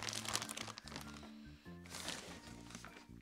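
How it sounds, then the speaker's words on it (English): A plastic cereal bag holding a Cinnamon Toast Crunch-like cereal is pulled open with steady close crinkling and crunching, continuous for a few seconds with a brief lull partway through. "So I'm gonna open it like a normal cereal bag."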